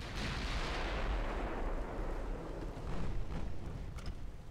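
A naval main gun battery fires in the warship game Ultimate Admiral: Dreadnoughts, giving a loud, broad boom that rolls off slowly. A second, weaker blast comes partway through. No voices are heard.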